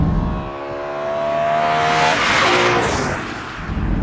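BMW E9X M3 with its S65 V8 engine, a rising engine note that swells into a broad rushing roar as the car pulls away, loud and close, with no talking.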